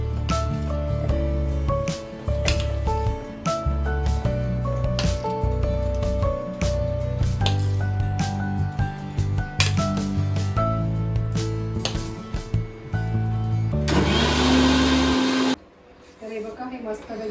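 An electric mixer grinder blends chopped Hapus mangoes until smooth. A loud, dense whirring burst of about a second and a half comes near the end, after a long stretch of background music.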